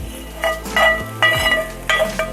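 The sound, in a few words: grinding boiled shrimp on a grinding stone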